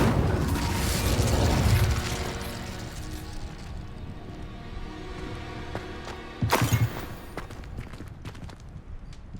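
A fire spell cast in Hogwarts Legacy, with a loud burst that fades into crackling, mechanical clatter and a second sharp flare-up of noise near the end, all without speech.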